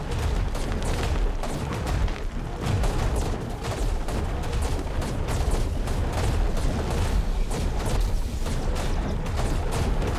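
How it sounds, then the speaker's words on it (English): Cannon shots in ARK: Survival Evolved, fired at a Forest Titan, buried in a dense, steady wall of booming impacts and mechanical battle noise with no pauses. "we'll try to get some more cannon shots on him"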